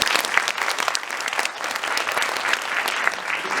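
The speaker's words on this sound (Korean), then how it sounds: "마케팅 팀에게 박수 한번 보내주세요." Audience applause at a Korean film screening Q&A, a dense, steady wash of clapping from many people in a hall, continuous throughout with little talk.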